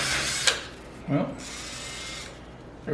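An electric drill whines in short bursts, then a brief crunching snap as the drill bit breaks during a rack and pinion install on an S10 pickup, with steady background noise around it.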